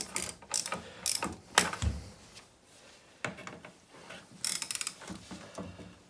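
A ratchet fitted with a 27 mm socket works on the engine bolts of a Citroën 2CV, sounding as short bursts of rapid metallic clicking with gaps and clunks between strokes, close up and alone.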